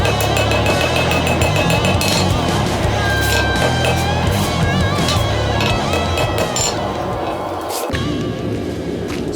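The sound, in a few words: hammering hot steel pieces from the forge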